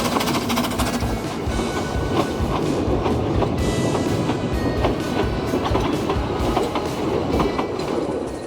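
A Talyllyn narrow gauge steam railway engine rumbling past steadily in the hills with rhythmic clickety-clack of wheels and a loud, continuous mechanical roar.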